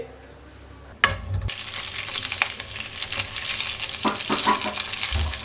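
Potato balls hit hot cooking oil with a sudden sizzle, then fry in a steady, lively crackle with occasional spatters and stirring clinks, close and alone.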